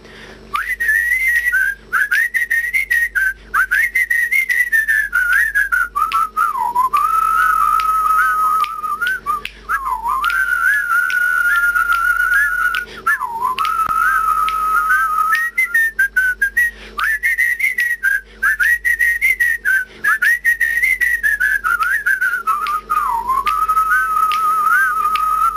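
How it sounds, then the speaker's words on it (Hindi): A person whistles a melodic tune with the lips, the clear pitched line rising and falling continuously for the whole stretch, loud and close with brief breath gaps and no talking. "आइए हम आपको सिखाते हैं सीटी बजाना।"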